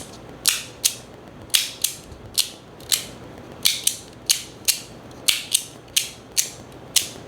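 The side click of a 3D printed Verkk fidget mechanism snaps sharply and crisply again and again, in a steady uneven rhythm of about two clicks per second. The sound is close and bright, with a faint mechanical rustle between clicks.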